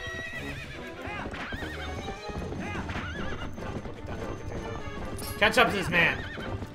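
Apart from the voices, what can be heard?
horse Epona galloping and neighing in Zelda Twilight Princess video game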